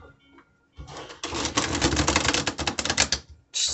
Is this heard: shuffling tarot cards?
yes